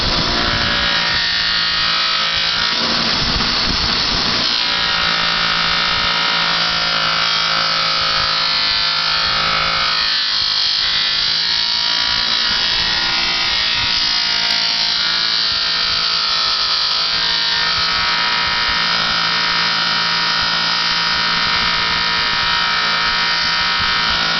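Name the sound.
buffing wheel polishing aluminum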